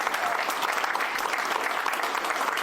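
A roundtable audience gives a round of applause, steady dense clapping from many hands filling the room at a loud, even level throughout.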